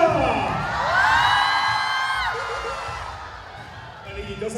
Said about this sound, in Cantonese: 大家俾啲掌聲 Mira！